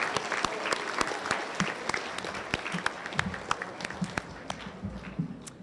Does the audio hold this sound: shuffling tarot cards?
no